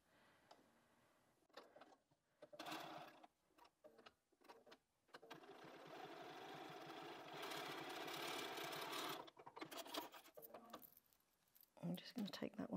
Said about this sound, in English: we're going to sew this down with a 1/4 inch seam